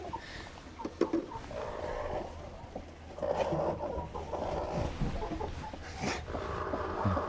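Chickens clucking in a coop during egg collection, scattered close clucks and squawks over a low background rumble, with a louder call near the end.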